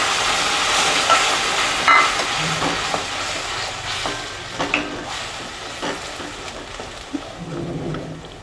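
Ground tomato paste, blended with the skins on, is tipped into a hot pan and stirred, giving a steady sizzle with scraping and spoon clatter close by.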